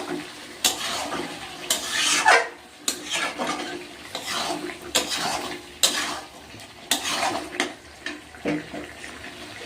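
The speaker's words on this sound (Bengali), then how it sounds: "ভালো করে নাড়াচাড়া করতে হবে বন্ধুরা" Chicken kosa being stirred in a pan with a spoon, giving repeated scraping and clattering strokes over a soft, steady frying sizzle, heard up close with no talking.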